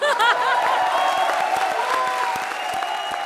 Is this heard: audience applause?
yes